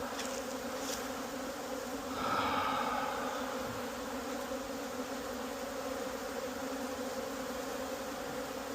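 Honeybees buzz steadily around a hive at an apiary during possible robbing, a continuous dense hum that swells briefly in the middle and otherwise holds even, with no talking.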